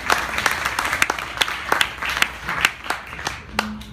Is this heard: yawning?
no